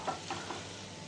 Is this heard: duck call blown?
no